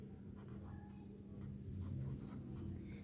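Pen or marker writing out a digital logic minterm expression with complemented variables during a magnitude comparator lesson, a steady faint scratching that runs continuously without talk.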